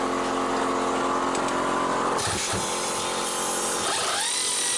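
A loud, continuous mechanical whirring with grinding shifts in pitch as a power tool undoes lower control arm bolts on a VW Baja, close by.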